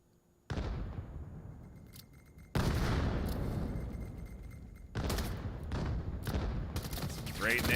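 Grenade blasts and rapid gunfire in the VR shooter VAIL during a competitive Fierce vs REKT match, coming in loud, dense bursts with a sudden onset and fresh volleys cutting in twice more, with a voice faintly mixed in.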